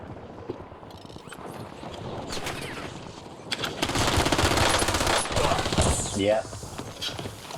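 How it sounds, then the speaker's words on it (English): Rapid bursts of video game gunfire crackle through a busy, dense mix, building to a louder sustained barrage in the second half with a voice talking over parts of it. "There's so many gunshots and I can't figure out."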